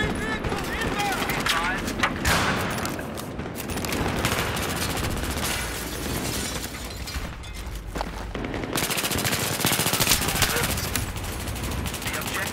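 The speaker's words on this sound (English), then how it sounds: "Watch out, watch out! Machine gun!" Sustained automatic machine gun fire in a Battlefield 3 Conquest match on Strike at Karkand, dense rapid bursts layered with other gunfire and battle noise throughout, with in-game voices calling out over the din.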